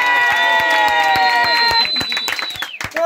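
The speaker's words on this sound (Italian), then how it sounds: "un applauso" Family guests at a 60th birthday party clap and cheer together, with sustained shouted voices riding over close, rapid handclaps that thin out toward the end.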